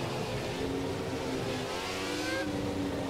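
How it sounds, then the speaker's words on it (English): A Renault R26 Formula One car engine in the F1 2017 video game holds steady throttle in a single gear while coasting, giving a sustained, moderately quiet drone with a faint pitch rise near the end. "the R26 just sounds like he's coasting in a single gear here, just holding the throttle steady, maintaining speed"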